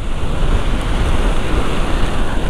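Heavy rain pours during a ride on a Voltz EV1 electric motorcycle. It makes a loud, continuous rushing roar mixed with wind buffeting, steady and unbroken with no voices.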